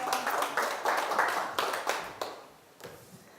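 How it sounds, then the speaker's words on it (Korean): A small group claps at a church gathering in a burst of uneven, overlapping hand claps that thin out and fade to a few scattered slaps, close and moderately loud with no talking. "할렐루야 박수."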